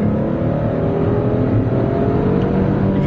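Porsche Panamera S Hybrid (2011) accelerating hard with its tyres spinning, a loud, steady, close engine roar with dense low rumble running unbroken throughout.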